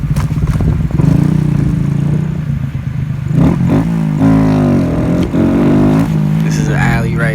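A Honda Grom motorcycle ridden through a downtown city alley, its small engine buzzing and revving steadily with rising and falling pitch, close by, while someone talks over it.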